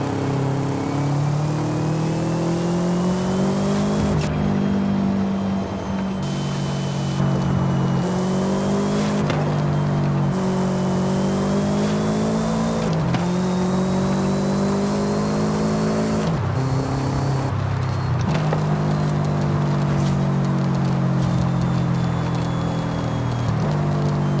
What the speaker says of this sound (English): Let's listen to that box engine there.